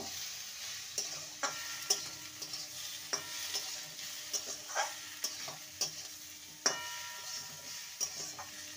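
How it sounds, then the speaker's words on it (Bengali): Fried ridge gourd and moong dal are stirred in a pan, quiet sizzling under a string of sharp ladle taps and scrapes against the metal at an uneven pace. "এবারে ভেজে রাখা ঝিঙেটা দিয়ে দেবো, ভালো করে মিশিয়ে নেব।"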